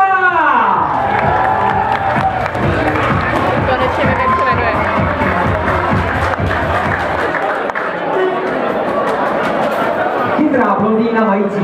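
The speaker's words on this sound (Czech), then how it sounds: "dámy a pánové, bouřlivý potlesk" A school graduation sash ceremony crowd bursts into loud, sustained applause with cheering and shouts, a dense wall of clapping and voices close by that carries on for the whole stretch.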